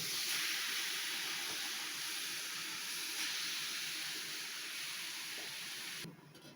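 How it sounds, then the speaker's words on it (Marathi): Grated pumpkin cooking in a wok on a gas stove makes a continuous broadband hiss and sizzle at a steady level, then drops away abruptly just before the end, with no voices. "गॅसवर आपण कढई ठेवायची आणि त्यामध्ये पहिले किसलेले डांगर टाकायचे"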